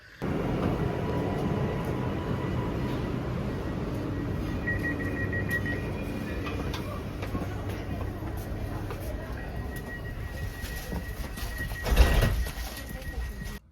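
A steady low rumble of a moving train carriage near Bamberg, Germany continues throughout, with a brief louder clunk near the end.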